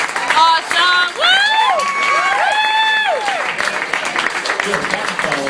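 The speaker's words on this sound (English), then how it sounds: "Keep that round of applause going for your next comedian, Rob." A comedy club audience applauds and whoops for a comedian, a loud burst of crowd cheering and clapping with high excited shouts throughout, rising again after a brief dip.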